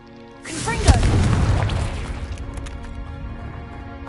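A Confringo blasting spell explodes in Hogwarts Legacy on PS5: a sudden loud boom with a crashing burst, then a rumbling roar that slowly fades over a few seconds.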